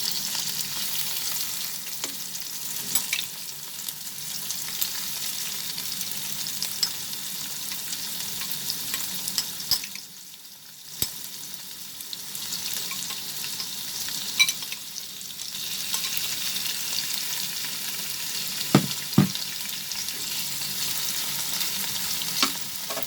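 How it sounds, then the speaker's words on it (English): Prawns fry in hot oil in a pan over a medium flame while a prawn and potato curry is being made. A steady, close sizzle runs throughout, with a short dip in the middle and a few brief clinks near the end. "So just drop them. You will slightly fry them."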